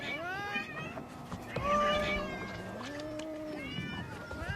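Several cats meow repeatedly nearby as they swarm a fishing boat, overlapping drawn-out cries that rise and fall, one louder wail in the middle, with no talking.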